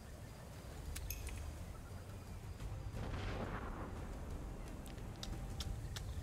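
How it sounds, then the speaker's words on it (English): Cannon fire in the pirate video game Tortuga A Pirate's Tale: a single rumbling blast about halfway through, over steady low in-game background noise and a few faint clicks, with no talk. "Fire the cannon!"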